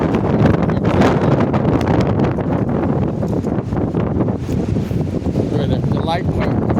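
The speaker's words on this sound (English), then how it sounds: "obviously it's incredibly windy right now" Strong wind during a high wind advisory in Gatlinburg, a loud continuous roar and rumble of gusts battering the microphone, with a person talking over it.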